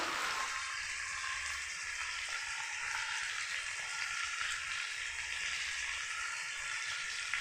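Marinated meat fries in ghee with turmeric, giving a close, steady sizzling hiss that holds evenly from start to finish.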